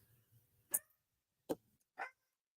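A pet dog barks three times in quick succession indoors, each bark short, sharp and fairly loud against an otherwise quiet room with no talking.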